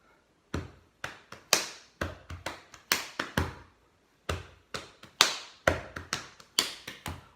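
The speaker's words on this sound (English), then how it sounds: "percussion is when we use our bodies to try and make some percussion-like sounds" Body percussion played by hand, with sharp taps and claps on the body landing in a lively, syncopated rhythm. Two phrases are separated by a short pause, close and clear with no voices.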